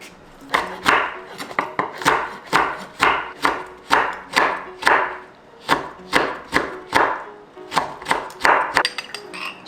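Four chili peppers are minced with a knife on a cutting board in a kitchen, making about twenty crisp, evenly spaced chops in a steady rhythm, close and clear with no voices.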